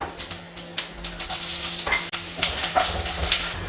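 Cumin seeds and dried red chillies frying in hot oil, a loud close crackling sizzle punctuated by sharp spoon clinks and pan knocks as the spices are stirred.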